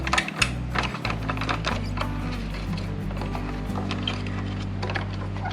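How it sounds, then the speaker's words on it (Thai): A socket ratchet tightens the bolts of a rear rack on a Yamaha XSR155 motorcycle, making rapid, close, mechanical clicking bursts in quick runs over a steady low background hum. "ตอนนี้เราจะทำการยึดตัวน็อตให้แน่นนะครับ"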